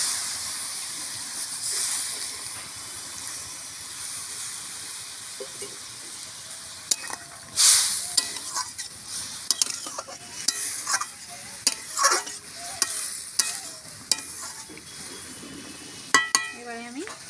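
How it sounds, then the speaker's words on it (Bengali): Kalai greens stir-fry in a wok, a soft sizzle that turns into louder bursts of hissing steam and repeated scraping stirs in the second half. "কড়াই শাক ভাজবো একটু"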